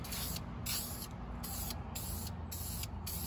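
Short bursts of spray paint hiss from a can onto a metal part for a 1959 Chevy Apache build, about six sprays in an uneven rhythm, close by and fairly quiet.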